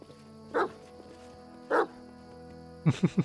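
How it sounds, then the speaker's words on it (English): Dog barking in the video game Pathfinder: Kingmaker: two single woofs spaced about a second apart, then a quick run of three short barks, fairly close with no talk. "A dog, and it's friendly."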